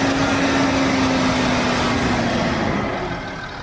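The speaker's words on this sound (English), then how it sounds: "Now rev it to 3000, hold it and let it go." A rebuilt Land Rover Discovery 3 engine holds a steady high rev around 3000 rpm on a hot day, a constant loud drone that eases off slightly near the end.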